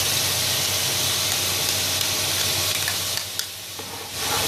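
Tomato puree hits a hot kofta curry base, and a loud, dense hiss of sizzling and steam fills the clip before easing slightly near the end.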